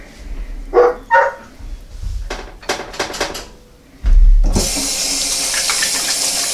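Hands are washed under a running kitchen tap. A few soft clatters and knocks come first, then the water gushes on loud and steady to the end.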